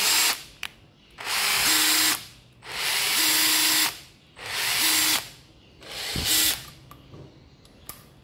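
Makita 141 18V brushless four-function cordless drill, black, running in four short bursts of loud close whirring with ratcheting clicks, brief quiet gaps between each spin.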